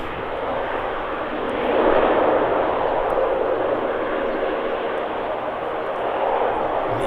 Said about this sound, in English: Distinctive sound of the ATR